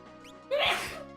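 A single sharp sneeze bursts out midway, close and fairly loud, after a quiet stretch of background tones.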